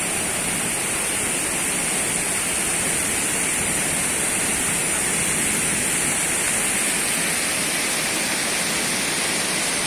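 Water pours over the spillway of the Dourado reservoir in Rio Grande do Norte, Brazil, a constant, dense roar of rushing flow that holds steady throughout without pauses.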